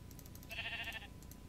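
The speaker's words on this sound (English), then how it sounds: "That sheep is getting on my nerves." A sheep in a Minecraft modpack game gives a single short, bright bleat, clear over a low steady background hum.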